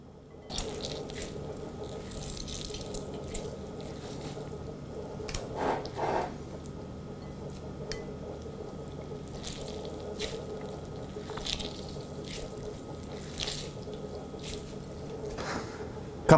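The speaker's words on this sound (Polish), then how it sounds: "Najpierw musimy odcisnąć kapustę, ale nie wylewamy soku z kapusty." Shredded cabbage is squeezed by hand over a bowl for a traditional fried cabbage dish, giving soft wet squishing and dripping of juice, quiet and close, steady over a faint background hum.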